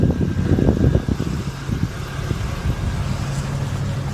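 A car pulls away, its engine rumble loudest at first and then fading into a steady low road hum as it drives off, with no talking.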